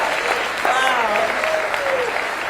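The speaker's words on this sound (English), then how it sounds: "Can you believe that's an applause line?" Dense crowd applause at a Kamala Harris campaign rally in Pennsylvania, steady and loud throughout, with cheering and whistles rising through the clapping.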